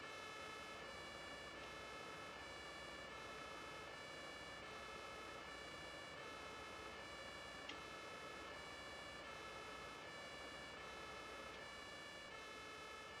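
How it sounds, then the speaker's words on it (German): A fire truck siren from a firefighting emergency-call video game, left switched on, plays loud and unbroken. Its steady two-tone wail repeats the same rhythm over and over, with no talking. "Oh, unser Martinshorn ist noch an."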